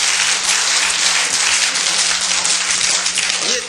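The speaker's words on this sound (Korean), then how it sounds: "박수를 한번 쳐주십시오." Audience applause fills a lecture hall during a Korean history talk: steady, dense clapping from many people, loud and close, sustained throughout with no speech.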